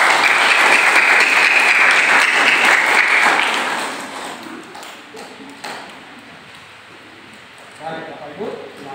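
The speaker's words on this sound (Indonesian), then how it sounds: "Kita berikan tepuk tangan kepada" Loud applause from a congregation at a Catholic baptism fills the first few seconds and then fades into quieter scattered clapping and room noise.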